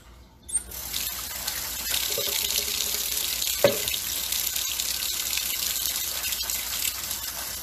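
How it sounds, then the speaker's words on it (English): Water runs steadily from a kitchen tap while hands are washed, a constant close splashing stream that starts after a brief click and carries on throughout, with a faint squeak partway. "Wash my hands."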